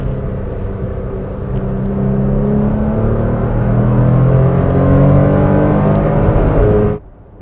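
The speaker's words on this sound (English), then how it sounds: "This is a nice sounding V6." V6 engine of a 2023 manual Toyota Tacoma TRD Pro revs and accelerates, a loud, close, steadily rising engine drone that builds and holds before cutting off sharply near the end.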